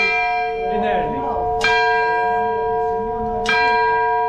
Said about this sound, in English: This is the clock bells.